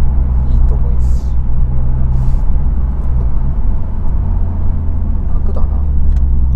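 A Honda FK7 car accelerating while being driven, heard from inside: a loud, steady low engine and road rumble, with a few faint higher sounds over it.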